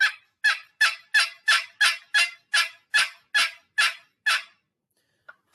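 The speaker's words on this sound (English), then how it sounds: "Just run that call across the top of that lip, or that paddle across the top of that lip" A turkey box call worked by sliding its paddle across the lip, producing a run of about eleven raspy, evenly spaced yelp notes, loud and close, followed by a faint scrape.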